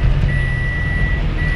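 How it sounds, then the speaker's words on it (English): A car draws near on a street, its engine a steady, loud low rumble with a thin, sustained high whine riding over it, close by and with no speech. "A car is coming"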